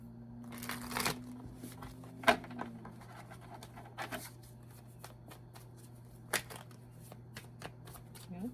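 Tarot cards being shuffled by hand, soft papery riffles and slaps recurring every second or so, close and fairly quiet over a steady low hum.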